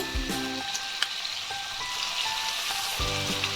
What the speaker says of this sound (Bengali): এখানে নেড়ে নেব, ভালো করে ভেজে নেব আলুটাকে